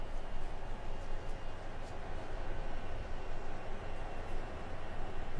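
A train runs in a train simulator video game, giving a steady, dense rumbling noise that continues without a break.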